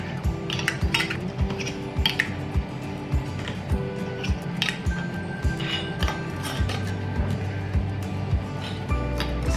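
Metal lids are screwed onto glass jars of pickled garlic, with steady close clinking and scraping of metal on glass over low kitchen background noise.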